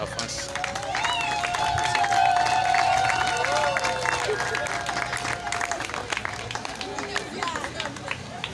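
A wedding crowd applauds and cheers for the bride's family, the Tchomba parents, with sustained clapping and whoops swelling then easing, while a voice calls out over the noise and crowd chatter mixes in.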